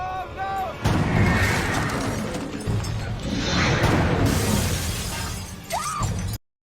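A shotgun fires two shells in an episode of the TV series Supernatural, set in loud, dense, crashing blasts and sustained noise, with brief voice fragments before and near the end.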